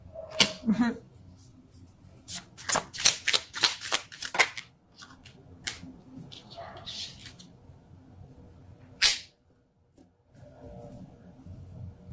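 Tarot cards being shuffled by hand, crisp riffling bursts in quick clusters, close and fairly loud, separated by quieter gaps and a few isolated card snaps.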